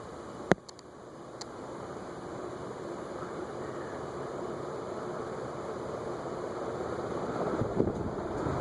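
Ceiling fan with a heavy stamped motor running on high speed, a steady broadband whoosh of moving air with a faint hum, a sharp click near the start and no talking.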